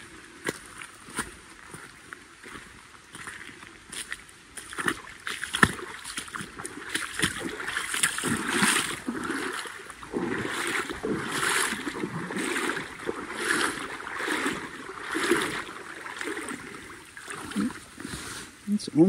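Water splashing and sloshing as a hiker on the Sheltowee Trace wades knee-deep across a stream, irregular close splashes and churning steps continuing throughout with a running-water background.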